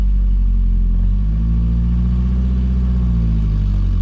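A mini truck engine with a manual gearbox pulls away, a deep, loud rumbling drone heard close up, its pitch rising slightly as it gains revs, with no talking.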